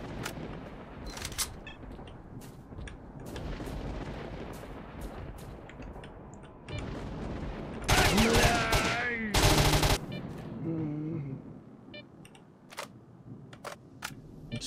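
Bursts of gunfire from a newly acquired gun in S.T.A.L.K.E.R.: Shadow of Chernobyl, sharp repeated shots cracking loudly over a busy game background, with two dense volleys standing out near the middle.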